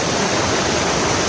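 A waterfall just across from a house pours as a loud, steady, close broadband rush of falling water with no pauses.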